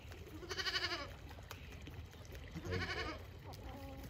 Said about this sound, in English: Come here, goat.